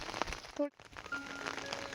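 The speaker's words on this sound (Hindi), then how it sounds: "कैसे हो रही है बारिश" Rain falling during a rural monsoon while cows are herded: a steady wash of patter and droplets, moderately faint and continuous, broken by a brief louder tonal sound and a short dropout partway through.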